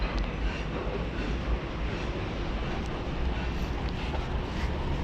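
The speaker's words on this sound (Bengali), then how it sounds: "মেট্রো চলে যায় ওই যে মেট্রো" A driverless metro train passing by in a large city, a steady loud low rumble with rushing noise that holds evenly throughout, close by and heard alone with no talking.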